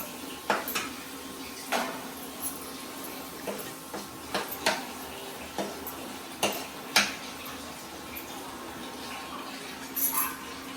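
Peas mixed into paneer masala in a pan, heard as sharp, close metal clinks and scrapes of a spoon against the pan at irregular intervals over a quiet background.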